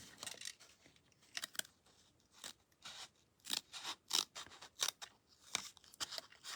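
Scissors cutting paper for a handmade card, a run of crisp snips and crunchy slices in uneven bursts, close and quiet, with no talking.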